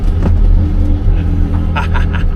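A Porsche Carrera GT engine rumbles loudly and close by, a deep steady growl with slight surges, no voices.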